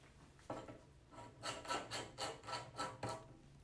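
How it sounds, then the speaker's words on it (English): A wrench tightens screw-in locks on plastic pen wheels, making a series of about six short, even rasping turns close by and fairly quiet. "you can take a wrench to make them even tighter"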